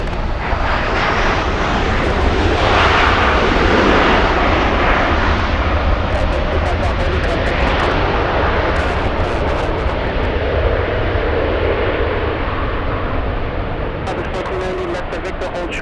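A large airliner roars down the runway on takeoff at LAX, a loud, sustained jet rumble that swells and slowly fades. Radio chatter and a nearby voice come through intermittently over the engines.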